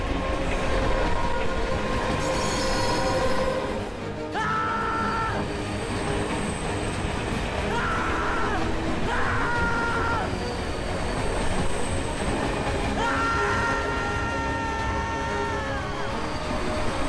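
A passenger train rolls along with a steady rumbling roar while several drawn-out horn blasts and a high wheel squeal ring out over it, continuous and fairly close, with no clear talk.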